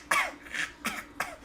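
A child in an animated Digimon movie coughs four times in quick succession, short raspy bursts close up, with no talking.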